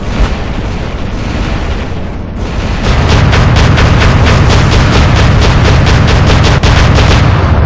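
Big robot guns fire in a video game: a heavy rumbling blast gives way to a rapid, evenly spaced stream of loud booming shots that continues to the end.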